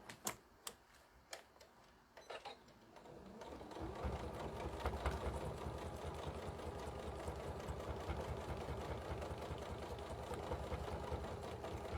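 A sewing machine stitches a seam on a Yazzii bag: a few sharp separate ticks and short bursts first, then a steady, fast mechanical whirr and clatter running close and even to the end, with no talk.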